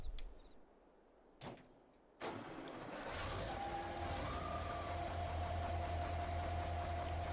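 A large tractor in Farming Simulator 22 starts up after a couple of clunks, then settles into a steady low engine drone with a faint whine on top, running continuously and moderately loud.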